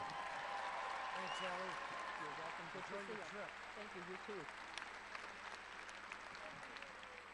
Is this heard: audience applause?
yes